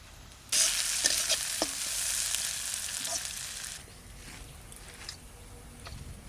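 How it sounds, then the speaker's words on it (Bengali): Onion and garlic fry in oil in a pan for greens while being stirred, giving a bright, close sizzle that swells suddenly, keeps going with scraping stir strokes, then drops to a quieter fry near the end. "ওদিকে পেঁয়াজ রসুনটা ভাজা হয়ে গেছে"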